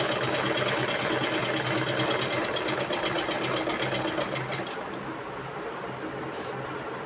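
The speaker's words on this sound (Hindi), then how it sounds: "इसकी बिल्कुल किनारी किनारी पे सिलाई लगाना है" A sewing machine stitches along the edge of a pant pocket, a fast steady mechanical whirr that runs loud and close for about five seconds before stopping, leaving a quiet hum.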